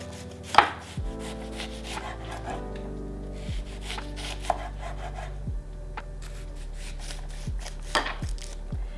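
A knife chops onion into small pieces on a board, a series of crisp, evenly spaced cuts at close range with faint scraping between them; no voices.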